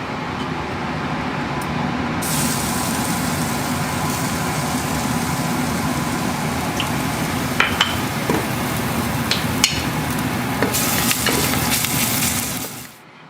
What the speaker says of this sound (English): So now we're just going to saute our garlic.